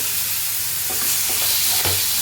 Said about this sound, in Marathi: टोमॅटो पण चांगला फ्राय करून घ्यायचा आहे